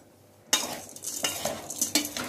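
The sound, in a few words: mixing carrot and beetroot bhel with lemon juice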